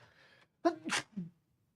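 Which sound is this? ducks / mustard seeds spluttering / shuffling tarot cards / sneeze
sneeze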